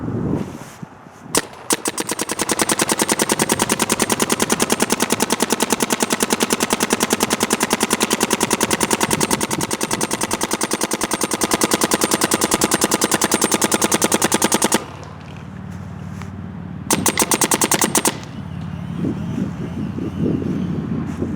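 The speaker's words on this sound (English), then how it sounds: "Let's put some paint through the Geo 4." A Planet Eclipse Geo 4 paintball marker firing outdoors in long, loud, rapid bursts of sharp pops. The shots run almost unbroken for about thirteen seconds, then come as a shorter burst, with wind rumble in the background.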